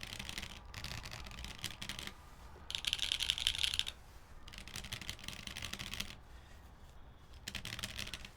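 Typing on a keyboard fitted with metal keycaps and Halo stems in U4T housings, faint clattery keystrokes in bursts and pauses, recorded quietly and close with no talking.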